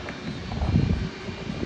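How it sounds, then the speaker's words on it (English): Spirit Airlines Airbus A320neo, registration N930NK, spooling its engines for takeoff at Norfolk International Airport, a loud continuous roar with a broad rumble that swells briefly midway. "You're hearing the A320neo right now. Boy, is it loud."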